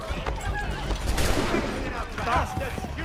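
Gunshots in Assassin's Creed III ring out amid a busy, chaotic scene, with voices shouting over the cracks and some hoof-like clatter underneath.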